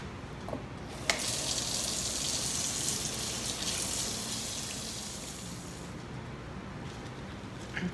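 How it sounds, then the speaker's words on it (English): A glass piece is rinsed under a running tap in a sink during a DIY etching job, a steady broadband gush of water flowing continuously and close for the whole stretch, with one brief clack near the start. "now I'm gonna run this one under water"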